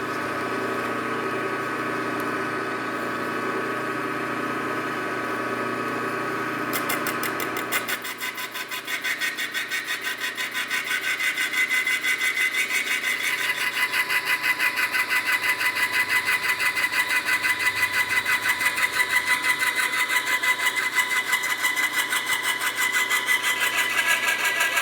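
A PM-940 milling machine cuts metal with a cutter brushed with cutting fluid, a steady loud machine drone that turns into a rapid, even chattering buzz once the cutter bites after the first few seconds and holds on continuously.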